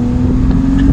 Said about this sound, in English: The BMW straight six petrol engine is a German institution